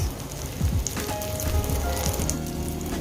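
Veggie balls for BBQ veggie balls sizzle and crackle in hot oil, a steady close frying hiss with scattered pops and spits throughout.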